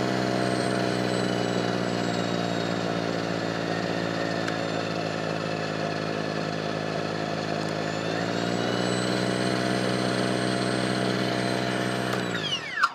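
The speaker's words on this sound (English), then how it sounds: "I'm going to push the auger lever down, and we'll put it on high, and I'm going to hit start." A Ryobi 40V brushless cordless self-propelled 24-inch two-stage snow blower runs at high speed as a steady, loud electric whine with a spinning auger hum, then winds down in pitch near the end.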